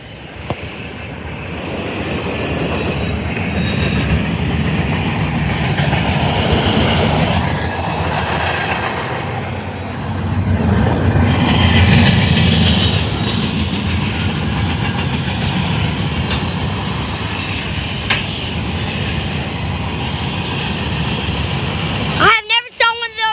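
A CSX freight train with hopper cars rolls past close by, a loud sustained rumble with rhythmic clatter from the wheels, while someone talks and exclaims over it.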